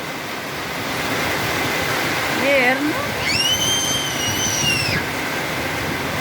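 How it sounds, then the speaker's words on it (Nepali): Heavy rain pours down on a city street with a dense, steady roar that never lets up, while voices speak and call out briefly over it. "यति जोरले पानी परिरहेछ।"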